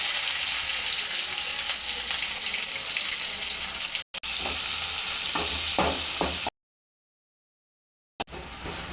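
Chopped onion and crushed garlic fry in hot oil in a pan, a dense continuous sizzle with a few stirring clicks, close and loud, broken by a brief dropout and a stretch of silence near the end.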